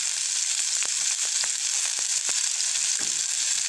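Garlic and red onion sizzle in hot oil in a pan, a dense, even frying hiss broken by scattered crisp crackles and light stirring clicks, close and continuous with no talking.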